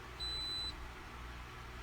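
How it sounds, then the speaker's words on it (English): A Ninja Specialty coffee maker gives a single short, steady electronic beep at the end of its brew cycle, clear over a low background hum. "Oh, it does beep, and it says end."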